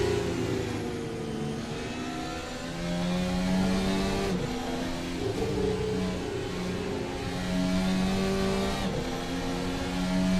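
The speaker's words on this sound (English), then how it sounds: "Let's do a full onboard lap with Alan Toast and the Red Bull racing car" A Red Bull racing car lapping the Red Bull Ring roars continuously from onboard, its loud engine rising and falling in pitch through gear changes and corners.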